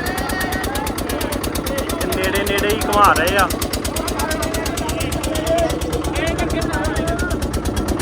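A river boat's engine straining at full power against the current near Kangan Ghat, Patna, giving a loud, fast, even chugging pulse throughout, with someone speaking over it.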